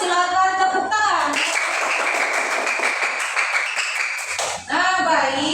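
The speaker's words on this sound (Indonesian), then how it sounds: "Silakan tepuk tangan." Elementary schoolchildren in a classroom clap for a class group, a loud burst of fast, dense applause lasting about three seconds, with a voice talking just before and after.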